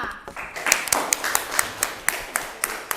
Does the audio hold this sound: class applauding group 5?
yes